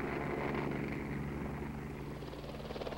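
A Lockheed L-286 rigid rotor helicopter in flight gives off a steady, loud, continuous rotor and engine drone that holds evenly throughout, with no talking.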